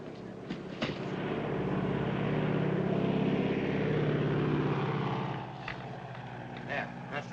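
A propeller airplane in a 1936 film scene drones loudly and steadily, swelling to a peak and then easing off, with people talking over it near the start and end.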